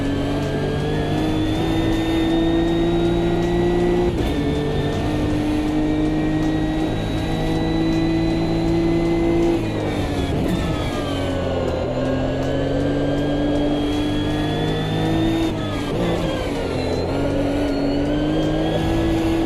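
A Nissan Nismo race car engine in the Assetto Corsa video game, revving hard and loud throughout with shifting pitch as it accelerates and changes gear, close and continuous.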